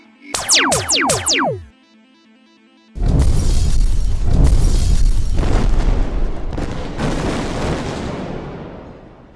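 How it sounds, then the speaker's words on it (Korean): A sci-fi laser incinerator fires as a sound effect: quick descending zaps and a steady hum first, then a brief silence and a loud, sustained roaring blast that rumbles for several seconds. "레이저 소각기 발사 준비됐습니다. 3, 2, 1."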